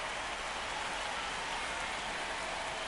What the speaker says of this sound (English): It's coming down pretty good. Yeah, it is, and it's not too bad yet, but the field's not going to be able to hold up if the rain gets any worse than this.